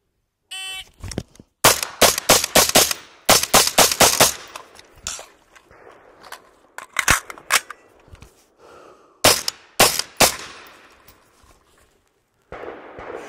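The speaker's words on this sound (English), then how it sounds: "I have a magazine of 10 rounds, 5 into one rectangle, 5 rounds into the other rectangle, conduct a pocket reload, after which 3 rounds into the circle" A Radian Model 1 rifle with a 17.5-inch barrel fires in a timed shooting drill: a quick run of loud, sharp shots, a pause for a pocket reload, then further shots, with echoing tails between them.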